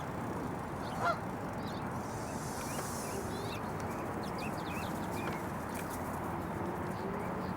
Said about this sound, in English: Uh-oh, goosies.